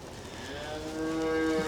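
A cow on a cattle farm lets out a long, low moo that swells and grows louder toward the end, close by, with no talking.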